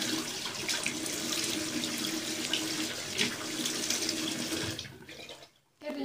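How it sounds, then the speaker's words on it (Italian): Tap water runs steadily into a bathroom sink as a face is rinsed, a close, continuous splashing stream with small shifts as hands move through it, cutting off near the end. "Adesso sciacquo direttamente tutto l'acqua"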